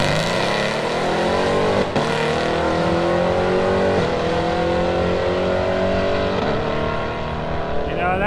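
A Tri-Five era car, likely an automatic, launches and accelerates down a drag strip with a loud, sustained engine roar and a clear rising pitch that drops at each gear shift.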